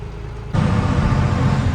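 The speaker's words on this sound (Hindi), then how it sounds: "यहाँ से गाड़ी करते हैं रिवर्स" A goods vehicle starts reversing: after a quieter moment, a sudden swell of low engine rumble comes in and holds steady and fairly loud, with no voices.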